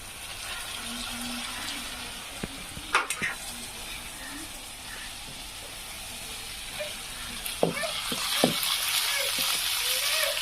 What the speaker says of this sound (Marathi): आता मी याच्यामध्ये डाळ टाकून देते